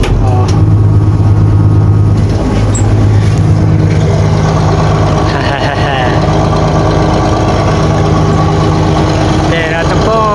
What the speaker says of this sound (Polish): Jeszcze raz wam zapalę. I jeszcze raz go pykniemy, żebyście posłuchali.